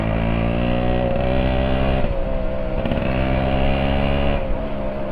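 A Yamaha RX100 motorcycle engine runs steadily up close, a loud, continuous droning exhaust note with slight wavering in pitch and no speech over it.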